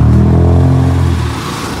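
Yamaha NMAX version 2 scooter engine running after a fuel pump repair, a loud close steady hum with harmonic whine that eases down slightly toward the end.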